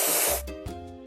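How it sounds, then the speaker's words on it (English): A short, bright hiss of spray paint bursts for under half a second over discolored spots, followed by faint tonal chimes from a cartoon-style building game. "Let's paint over the discolorations."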